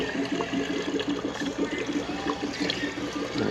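Coolant gurgles and bubbles steadily in the four-way radiator hose of a Duramax 6.6 diesel while the system is being filled, a continuous watery burble close by.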